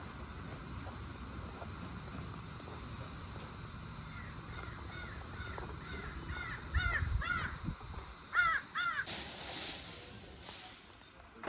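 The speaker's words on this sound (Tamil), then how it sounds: "இந்த மயில் ரொம்ப நேரமாக தோகையை விரிச்சிட்டு ஒரு மாதிரி சவுண்டு கொடுத்துன்னு டான்ஸ் ஆடுற மாதிரி இருந்தது" A peacock with its tail fan spread calls at a Hindu temple in Kammavanpettai, a series of repeated sharp, nasal cries building in the middle and growing louder near the end, over a murmur of outdoor background noise.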